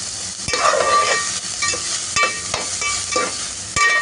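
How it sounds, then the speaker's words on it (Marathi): Finely chopped onion sautés in oil until golden brown for ulta palak paneer, a steady loud sizzle with occasional scrapes and knocks of a stirring spoon. "आता आपण ह्याच्यामध्ये हा बारीक चिरलेला कांदा टाकायचा आहे."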